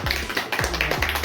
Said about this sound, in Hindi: तो एक बार सत्यम के लिए जोरदार ताली हो जाए